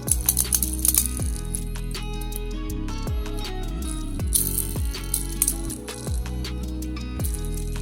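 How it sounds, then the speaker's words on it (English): A Hot Wheels diecast car, a 2020 Toyota GR Supra, is unboxed from its packaging up close, with a string of light plastic clicks, rattles and crinkles. "Get this out of the packaging."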